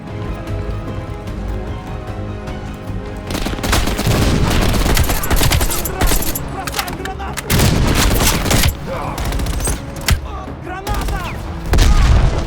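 Machine gun fire rattles in the Call of Duty Black Ops Cold War campaign, loud sustained bursts with booming impacts, starting after a quieter musical stretch and repeating in heavy volleys.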